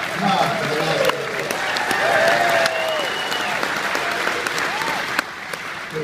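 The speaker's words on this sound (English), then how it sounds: "Big round of applause." An audience claps in loud, sustained applause, a close, dense wash with scattered cheers and voices rising over it.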